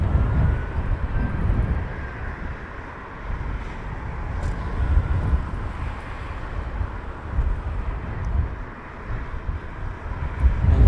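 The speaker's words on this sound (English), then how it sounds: "Got another inbound aircraft." Inbound airliner approaching Heathrow Airport, a steady low rumble of engines and wind that holds at an even level throughout, swelling slightly near the start and end, with no voices.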